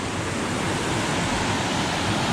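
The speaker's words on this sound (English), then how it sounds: "There's a nice little cascade." Small mountain stream cascade rushing beneath a bouncy suspension bridge on a forest trail, a steady, close, dense wash of water noise with no talking over it.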